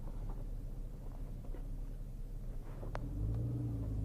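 Porsche Boxster Spyder with manual gearbox and Akrapovic exhaust, a steady low engine rumble near the microphone that swells louder and deeper toward the end as it is revved.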